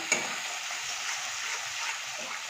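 Tomato paste, made from a small tomato ground on a grinding stone, frying in a pan with hand-ground spices for a Bengali fish curry. It gives a steady, close sizzle with a brief scrape of stirring near the start and no talk.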